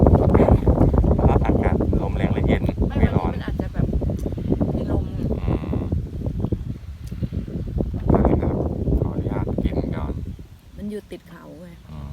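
Strong wind roars and buffets the microphone with a heavy low rumble at an open camping-style coffee shop in Chonburi, Thailand, while people talk over it throughout.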